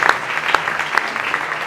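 A church congregation applauding together, a steady wash of many hands clapping close and loud for under two seconds, with a few sharper individual claps standing out and no talk.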